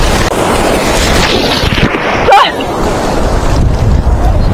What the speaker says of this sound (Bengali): দেখুন অনেক উঁচু উঁচুতে ঢেউ আসছে গাইস।